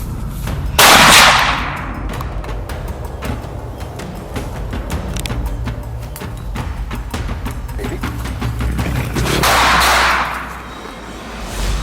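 Gunfire at a wild boar hunt: a loud close shot opens the scene, rough outdoor rumble and crackle carry on, then a second heavy blast comes near the end.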